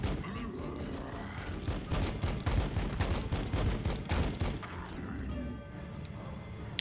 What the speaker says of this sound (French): On tire.